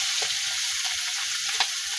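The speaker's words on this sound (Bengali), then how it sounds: "মাছটি দিয়ে দিলাম, মাছ দিয়ে ছোট মাছও ভাজা করবো।" Small fish fry in hot oil in a pan, giving a steady close sizzle with light crackles and a brief louder pop, with no voices.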